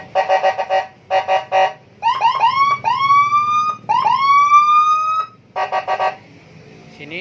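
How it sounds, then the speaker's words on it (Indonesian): An aftermarket electronic siren fitted to a Yamaha Nmax scooter cycles through its tones: bursts of rapid beeping, then rising whoop sweeps repeated several times, then beeping again, loud and close with faint background noise. "Hazardnya kita coba klaksonnya. Kita coba sirenanya."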